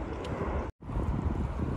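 Strong wind buffeting the microphone in a steady roar late in the day while out fishing, with a brief dropout partway through.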